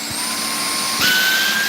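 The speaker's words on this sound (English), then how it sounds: "I vacuum this one." A vacuum cleaner runs steadily with a high whine whose pitch shifts suddenly partway through, growing louder and brighter, with no talking.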